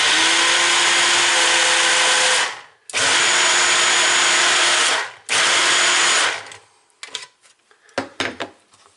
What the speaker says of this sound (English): So this strange blender is called a Ninja.